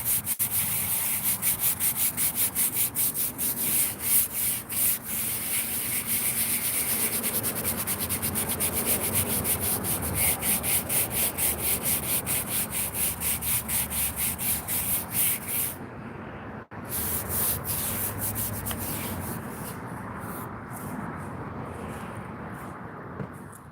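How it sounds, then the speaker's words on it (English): A metal scraper rasps steadily over a cemetery headstone, stripping paint from the carved letters, in a loud close continuous scrape with quick repeated strokes and a brief pause near the end. "I think I have my scraper."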